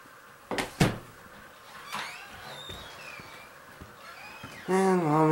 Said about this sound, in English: And Mom is using the freaking door.